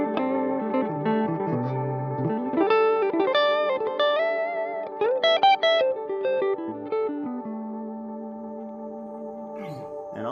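Emma Electronic Navigator delay pedal with its repeats ringing on after bypass, layered guitar notes and swelling echoes sustaining and shifting pitch over ten seconds, steady and fairly loud throughout.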